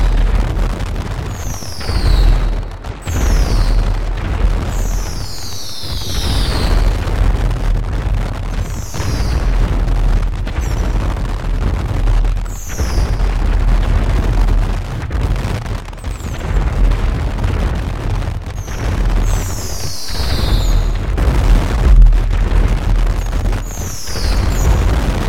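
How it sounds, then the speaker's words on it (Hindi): Diwali fireworks rockets launching and bursting in GTA 5, with repeated whistling rising streaks over a continuous rumble of booms and pops, loud and dense throughout. "ये देखो रॉकेट्स उड़ाए जा रहे हैं दोस्तों"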